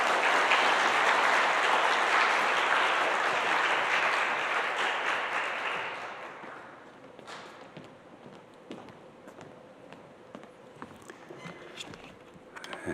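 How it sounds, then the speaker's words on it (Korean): Loud applause from a church congregation at a Sunday service welcoming a speaker, gradually fading after about six seconds, leaving scattered claps and light room noise. "우리 장로님 나오실 때 힘찬 박수로 모시겠습니다."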